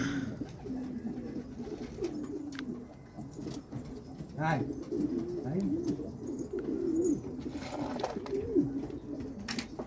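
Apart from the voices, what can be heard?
pigeons cooing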